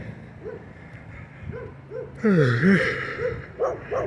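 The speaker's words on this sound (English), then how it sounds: "This dog barks at that dog." Dogs bark back and forth on a street, a string of short yips and woofs that swell louder midway, with a few distant whimpers, some close and some farther off, and no talk over them.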